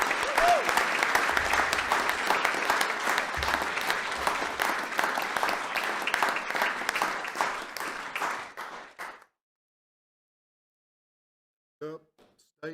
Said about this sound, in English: So would you please join me with a big round of applause for Alana and Jacob?